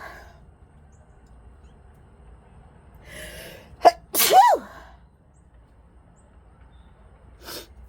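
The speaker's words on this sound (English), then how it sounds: "I want to sneeze." A single loud, close sneeze bursts out after a quiet stretch, with a softer breathy sound before it and a faint noise a few seconds later.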